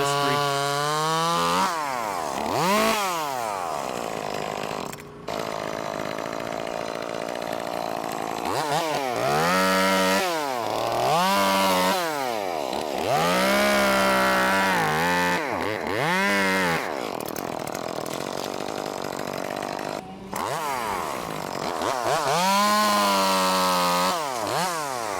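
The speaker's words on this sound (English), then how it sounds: "We'll make the felling cuts with that on this tree." A chainsaw makes felling cuts on a maple or black locust tree outdoors, its engine revving up and down in repeated loud surges across the clip, with a couple of brief pauses.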